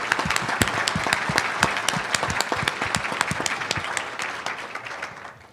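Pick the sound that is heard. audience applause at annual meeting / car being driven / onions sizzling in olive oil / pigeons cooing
audience applause at annual meeting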